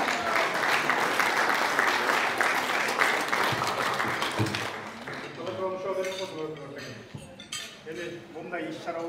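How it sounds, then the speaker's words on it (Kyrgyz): Audience applause at a cooperative award ceremony, a dense burst of clapping that fades after a few seconds, followed by talk over faint clinking of dishes. "Кол чаап койсоңуздар."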